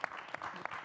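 Audience at a conference panel session on LGBTQ+ equality claps briefly, a short burst of applause with a few sharper claps standing out.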